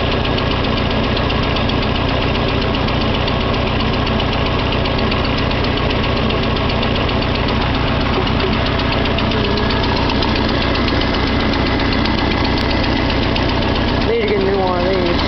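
A Farmall Cub tractor engine idles after a cold start, a loud, close, steady chugging rumble with an even knocking rhythm that runs the whole time.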